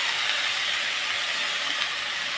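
Cooked field bean pods are stirred and sautéed in a pan for a Maharashtrian dish, giving a steady, even hiss close by with no speech.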